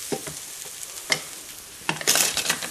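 Onions cooked until translucent are scraped and stirred in a pan with a light sizzle, as a few sharp scraping strokes stand out against a quiet background, with no one talking.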